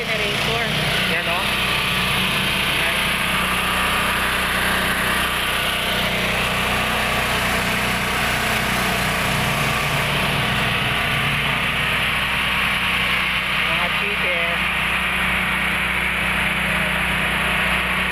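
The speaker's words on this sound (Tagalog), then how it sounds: "Ang ingay ng generator." Generator running during a power outage, a loud constant engine drone with steady vibration throughout, with people talking nearby.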